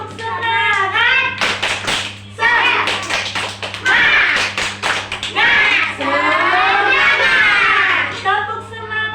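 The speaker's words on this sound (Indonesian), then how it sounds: "Oke, tepuk semangat." Kindergarten children and their teacher perform the tepuk semangat clapping chant, sharp rhythmic hand claps in quick bursts mixed with chanted young voices, close and loud in a classroom.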